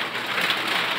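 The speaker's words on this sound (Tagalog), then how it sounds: "Umuulan na!" Steady rain pouring down in a continuous, even hiss, close and fairly loud, with no talk over it.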